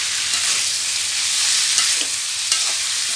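Pumpkin stir-fry with chilies and country sugar being stirred in a pan, giving a steady soft sizzle with faint scraping strokes throughout, close and alone.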